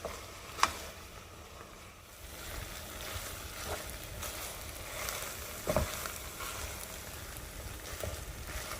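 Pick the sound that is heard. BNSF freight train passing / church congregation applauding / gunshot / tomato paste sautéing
tomato paste sautéing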